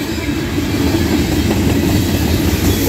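A Norfolk Southern freight train, train 594 led by locomotive NS 7532, rolls loudly past at Karns, Pennsylvania, with a continuous heavy rumble and wheel noise and no talking.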